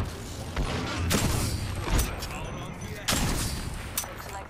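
Gunfire from the Sentinel sniper rifle in Apex Legends cracks out in a few sharp, separate shots spaced about a second apart, with mechanical bolt clicks between them over a busy game-world background.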